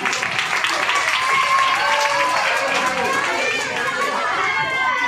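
An audience claps for young children in a Baul group at a school drama performance, a dense and fairly loud burst of applause mixed with crowd chatter and children's voices.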